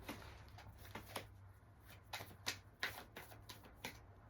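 Tarot cards are shuffled by hand in a series of soft, uneven riffling snaps and taps, close and quiet, over a faint steady hum.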